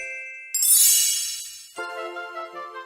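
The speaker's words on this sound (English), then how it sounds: "Tinker Bell happily sprinkled the pirate ship with golden pixie dust to make it fly" Magical chime of golden pixie dust sprinkled over a flying pirate ship in a Peter Pan tale: a bright, shimmering sparkle bursts in, fades, then gives way to a softer ringing tonal swell, with no voices.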